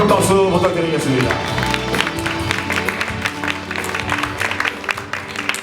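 Audience applause and cheering at a 2020 Uiseong future-education roundtable forum, a dense, sustained wash of clapping that fills the hall from start to finish at a steady loud level.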